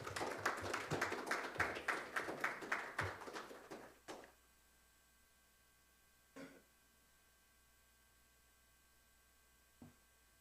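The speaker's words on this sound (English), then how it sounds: "Please give him a round of applause." Audience applause at a University of Belize investigative journalism prize event, a burst of clapping for about four seconds that fades out, followed by near silence with a couple of isolated taps.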